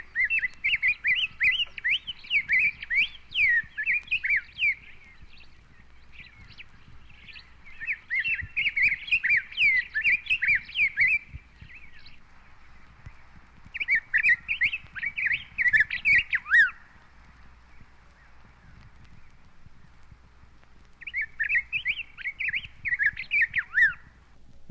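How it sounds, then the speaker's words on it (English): Yellow grosbeak singing in tropical western woods: loud, clear warbled phrases in four bursts separated by short pauses, close and prominent over a faint low background hum. "The loud, clear song of the yellow grosbeak is now heard"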